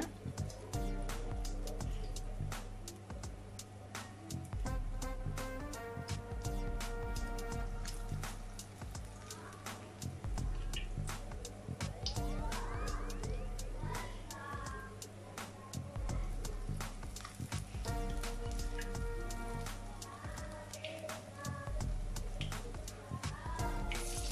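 Urad dal vada batter dropped into hot oil, a continuous crackling sizzle like steady rain that carries on for the whole stretch, with tonal sounds faintly underneath.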